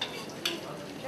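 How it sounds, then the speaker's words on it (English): Ground dry chilies fry in a pan with a soft, close sizzle. One brief scrape of stirring stands out partway through, and there is no talk. "Okay, fry it for a while."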